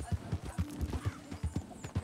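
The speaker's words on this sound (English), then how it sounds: "Where'd that horse go?" Horse hooves clip-clop in a quick, uneven rhythm in Red Dead Redemption 2, mixed with a short whinny. The sound is moderately close and fairly quiet.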